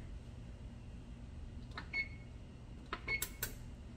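Oven keypad beeps as the preheat is set to 350, two short beeps about a second apart over a low kitchen hum, alongside a few faint taps.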